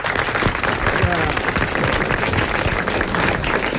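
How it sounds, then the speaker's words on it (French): Audience applause at a 1988 French-language broadcast gathering: dense, steady clapping that fills the whole stretch, with some voices mixed in underneath. "Vous l'applaudissez,"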